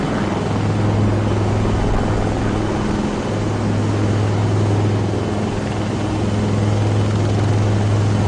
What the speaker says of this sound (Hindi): वास्तविक में यहाँ पर दो हेलीकॉप्टर है परेड ग्राउंड के दाएं और बाएं।